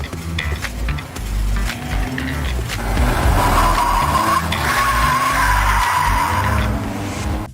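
Tires of a gray, street-legal BMW E30 drift car skid and squeal loudly and continuously, a sustained screech over a roaring engine that builds and holds for several seconds.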